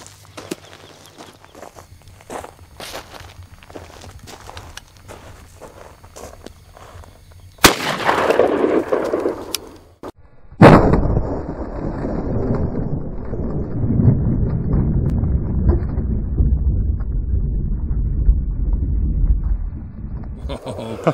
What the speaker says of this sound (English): he's gonna shoot it with this Federal 8 shot